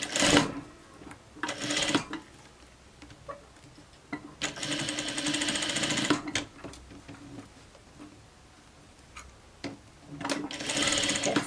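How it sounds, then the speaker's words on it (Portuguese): A sewing machine stitches an elastic waistband closed on a pair of shorts, running in three loud, rapid whirring bursts of two seconds or less, separated by quieter handling noise. "Reforço aqui a costura para ficar bem preso."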